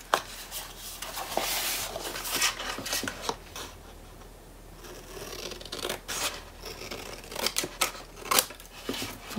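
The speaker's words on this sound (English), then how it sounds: "cut on the outside of the line, on the outside of your line, because you can always cut off more paper" Scissors snip through album-base paper in a steady run of close, crisp cuts and rasps, the blades opening and closing in uneven bursts with no talking.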